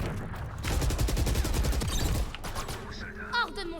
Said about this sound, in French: Vas-y, je fais des tirs de suppression.